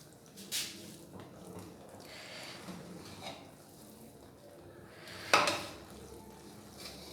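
Zarda sweet rice being stirred and mixed in a pot, soft scraping and squishing with a few clinks of a spoon against metal, one sharp clatter near the end, quiet and close.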